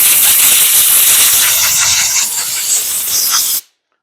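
Compressed air hissing from a shop air line plumbed underground to a back shop, a loud close continuous rush that cuts off abruptly near the end, leaving silence.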